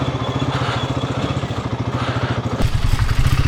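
A motorcycle engine throbs nearby with a fast, steady rhythmic putter, then swells into a louder, rougher burst as another bike seems to pass close by.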